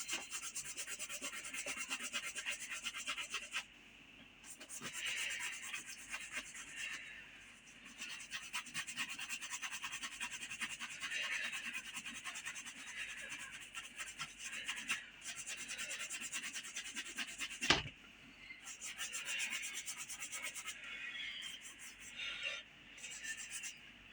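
A spinning horsehair brush rubs and polishes shoe leather with a continuous dry whirring scrape, briefly pausing and resuming, close and steady.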